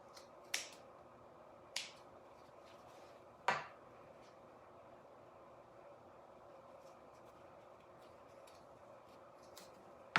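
Scissors cutting a fabric strip make a few crisp, isolated snips, three clear ones early on and fainter ticks later, quiet and close with long pauses between.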